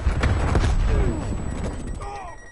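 A grenade blasts in the multiplayer shooter Call of Duty Cold War, a loud, rumbling boom with scattered gunfire crackling through it and fading off, heard up close.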